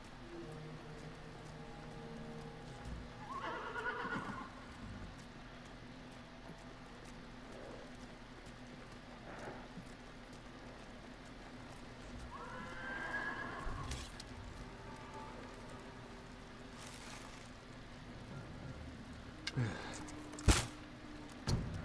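A horse in the video game Ghost of Tsushima neighs and whinnies amid faint hoof clip-clops and ambient game sounds, fairly quiet overall with a few sharper knocks near the end.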